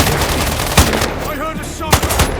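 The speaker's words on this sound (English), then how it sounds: "Shots fired!" Gunshots ring out in Sniper: Ghost Warrior Contracts 2, two sharp, loud reports about a second apart over busy game ambience, with a brief voice or whistle-like sound between them.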